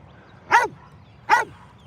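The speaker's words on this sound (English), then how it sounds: "You're starting to exhaust me with your bark, mister." A Staffordshire bull terrier barks twice, sharp single woofs about a second apart, close and loud over a quiet background.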